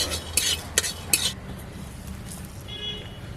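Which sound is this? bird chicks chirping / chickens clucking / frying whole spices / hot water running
frying whole spices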